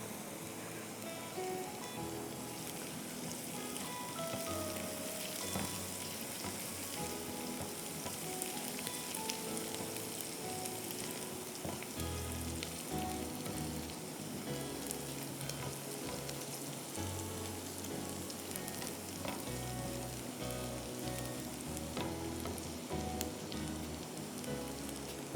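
Garlic sizzling and frying in a pan with oil, a constant dense crackle close up, occasionally stirred, running steadily without any talk.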